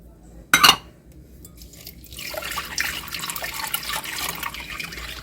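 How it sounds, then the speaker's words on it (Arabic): Warm water poured into a bowl of yeast and sugar while preparing dough for crispy Egyptian zalabia (luqmat al-qadi): a sharp clink near the start, then a faint, steady trickling pour that builds softly and keeps running. "هننزل بالخميرة وبعدين هننزل بالمية. مية هي ايه مايلة للسخونية اهي."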